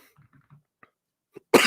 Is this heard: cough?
yes